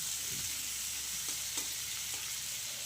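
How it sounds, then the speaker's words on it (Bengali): Kohlrabi and potato pieces fry in a pan for a fish dish, giving a soft, continuous sizzling hiss with a few faint scrapes and taps from stirring. "এগুলোকে এবার ওলকপি আর হচ্ছে আলুর সাথে এগুলোকেও ভালো করে ভেজে নেবো"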